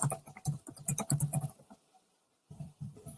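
Rapid clicking of keys being typed on a computer keyboard, a busy burst, a short pause, then more typing, close to the microphone.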